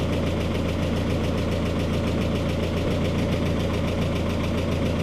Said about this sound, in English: You go sit in her, give her a touch of a rev.